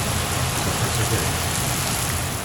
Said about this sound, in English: rain is coming down pretty good. And I hear thunder.